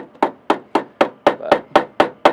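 Nine sharp, evenly spaced metallic taps from the bottom of a screwdriver striking the corner of a handmade box gutter, loud and close, about four per second with no talk.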